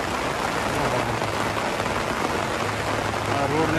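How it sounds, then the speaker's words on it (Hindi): Steady heavy rain falling outdoors onto a road, a dense continuous hiss of drops on wet surfaces, close and loud throughout with no voices. "वाओ, क्या बारिश हो रही"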